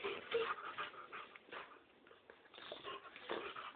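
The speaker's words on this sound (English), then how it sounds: "The boxer dog's attacking!" A boxer puppy makes soft whimpers, yips and panting sounds, faint and close, in short irregular bursts without any talking.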